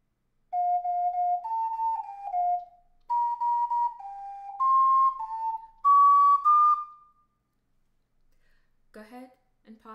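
Ocarina playing the final two sections of the Gravity Falls theme: a run of clean, breathy held notes in short phrases, close and solo, followed by a brief bit of speech at the end.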